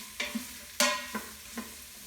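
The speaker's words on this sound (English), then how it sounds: "give it a stir" A spoon stirs soup with oregano in a pot, giving four soft separate scrapes and knocks against the pot at an uneven pace, with quiet gaps in between.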